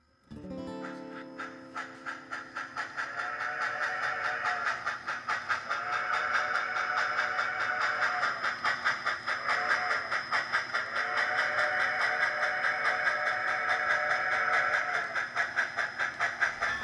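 An HO scale model freight train runs on a club layout, a steady mechanical hum with rhythmic clicking of wheels over rail joints, continuous and moderately close throughout.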